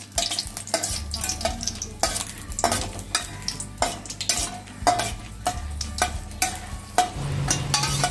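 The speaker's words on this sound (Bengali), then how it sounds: "এরপর কড়াইতে তেল গরম হয়ে ওই শুকনো লঙ্কাগুলো ভাজা ভাজা করে নিচ্ছি।" Dried red chillies fry in hot oil in a wok, with a constant crackling sizzle and a rhythmic run of metal scrapes and clanks as they are stirred over about eight seconds, without speech.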